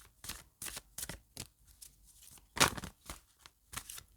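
Tarot cards being shuffled by hand, a series of crisp riffling bursts repeating roughly every half second, close and alone with quiet pauses between.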